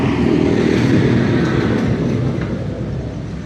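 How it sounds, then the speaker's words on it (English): A noisy tractor passes along a woodland track as a loud, steady low engine drone that fills the scene, then eases slightly as it moves off, with no talking. "I'm just going to have a pause for whatever is about to come past here. Noisy tractor, I think."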